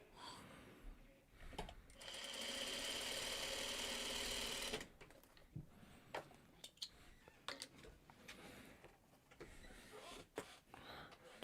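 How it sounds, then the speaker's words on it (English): A sewing machine runs for a short burst of a couple of seconds, stitching a scrap piece of fabric into a half square triangle, a fast buzzing whir amid quiet handling clicks and rustles. "I'll grab a little scrap piece so I can sew this into a smaller half square triangle"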